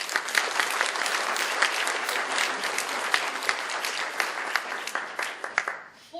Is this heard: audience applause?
yes